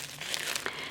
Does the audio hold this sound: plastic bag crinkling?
yes